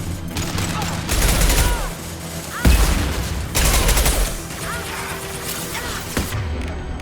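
Gunfire in the video game Mass Effect 2, dense bursts of shots and heavy concussive impacts stacked over a busy combat soundscape, loud and close, with a couple of sharp booming hits standing out.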